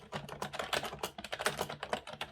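Brisk typing on a Microsoft keyboard, a close, clear run of clacking keystrokes in an uneven rhythm, played alone for a couple of seconds.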